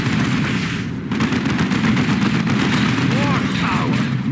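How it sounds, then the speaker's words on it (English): Continuous gunfire and battle noise from a Dawn of War 2 skirmish, dense and loud throughout, with shouted unit voice lines layered over the shooting. "Enemy firing!"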